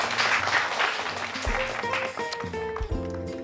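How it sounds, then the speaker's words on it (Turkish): Classmates applaud a girl who won first place in a composition contest, a short round of clapping in a classroom that gives way to bright musical tones. "Hadi alkışlayalım arkadaşımızı"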